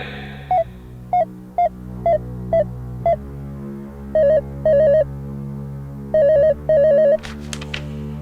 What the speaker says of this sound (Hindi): कंप्यूटर जी इनके मित्र को फोन मिलाया जाए